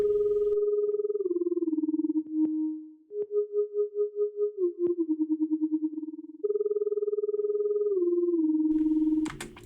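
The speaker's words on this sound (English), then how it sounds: "LFO moving very fast on the volume to give it that fluttering sound" A synth line with a very fast LFO on the volume, modulating at 32 movements per bar, gives sustained tones a rapid fluttering, chopped pulse as the pitch steps down through a short melodic phrase, clean and alone.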